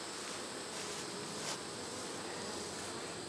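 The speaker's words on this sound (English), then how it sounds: "Got little baby bees in here" Bees buzz steadily inside a hive during a late-season split, a dense continuous drone, close and even throughout.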